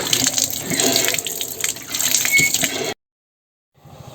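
Cold water splashes in a steady close stream over a heron's head outdoors in a village, then cuts off abruptly into near silence before a faint return.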